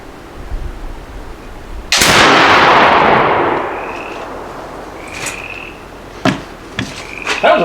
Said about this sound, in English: That was a pretty good shot.